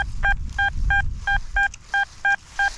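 Short, evenly spaced electronic beeps from an XP Deus 2 metal detector signalling iron, in a steady rhythm, about eight clipped tones repeating over a low rumble.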